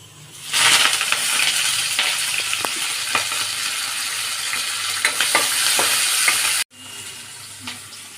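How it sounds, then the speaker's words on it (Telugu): Loud, steady sizzle of mustard seeds, cumin, dried chillies, green chillies, onion and curry leaves crackling in hot oil, with sharp pops and a few clinks throughout, cutting off briefly near the end. "ఈలోగా మజ్జిగ పులుసుకి పోపు అయితే వేసేసుకుందాం."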